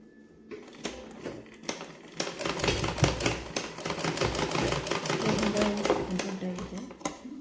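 Household sewing machine stitching fabric, a rapid mechanical clatter that starts after a brief pause and runs steadily, close and fairly loud, with someone speaking over it at times.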